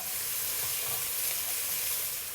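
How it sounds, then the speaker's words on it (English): Steady loud sizzling and crackling from a hot wok as prawns are tossed and stirred, with no voices. "Give it a nice stir."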